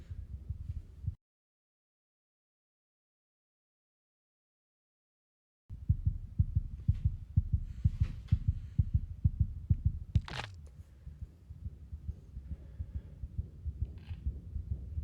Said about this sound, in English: That was his heartbeat she could feel.